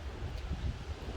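Low rumbling gusts of wind buffet the microphone on a rainy, stormy night walk outdoors at 2:30 am, steady and fairly faint with no voices.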